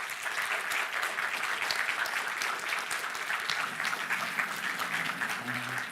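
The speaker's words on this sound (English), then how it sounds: "Please, big applause for them." Audience at a game pitch event applauding the presenting teams, steady dense clapping from a full room that holds at a constant level, with faint voices underneath toward the end.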